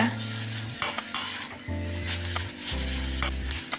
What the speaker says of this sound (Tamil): இந்த கருவேப்பிலை நல்லா முருகலாக வர வரைக்கும் வதக்கிக்குங்க.